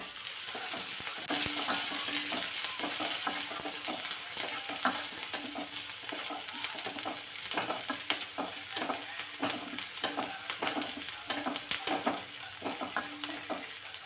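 Chopped onion and curry leaves fry in a pan with a constant hiss, punctuated by frequent light scraping taps as they are stirred. There is no voice.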